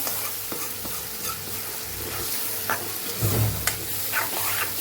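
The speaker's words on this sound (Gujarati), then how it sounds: "મસાલા સાથે ચણાને સરસ મિક્સ કરી લેવાના છે ગેસ આપણે સાવ ધીમો રાખેલો છે" Boiled chickpeas stirred with spices in a pan over a low gas flame, a soft steady sizzle with repeated scraping and clinking of the spoon, close and alone.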